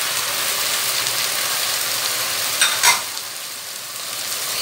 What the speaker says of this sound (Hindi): ये देखिए कि मैं लहसुन डाल रही हूँ।